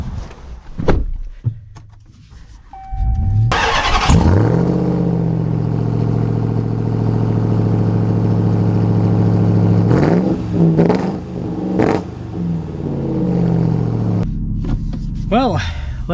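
A 2024 Ram TRX V8 pickup truck sets off: a door thuds, then the engine starts and settles into a loud, steady rumble with revs rising and falling, and a voice speaks over it.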